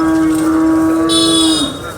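A Pandharpuri buffalo at a crowded livestock market lets out a loud, sustained moo lasting over a second, close to the listener and standing out clearly above the busy background noise.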